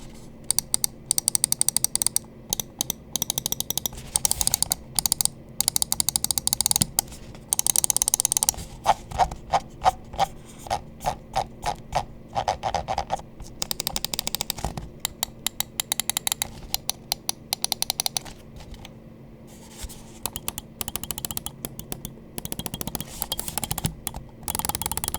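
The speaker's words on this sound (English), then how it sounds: "let's go ahead and drop a click quality sound test between both the Omron mechanicals and the" Gaming mouse buttons fitted with Omron mechanical and optical switches are clicked in quick runs and pauses, giving sharp, close, dry ticks with no talking.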